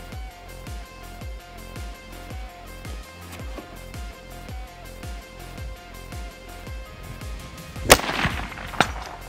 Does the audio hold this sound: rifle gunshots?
yes